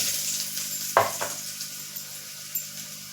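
Raw peanuts and chopped potato frying in a pressure cooker for farali moraiya khichdi, a soft steady sizzle with a sharp clatter near the one-second mark and a few lighter knocks, no voices.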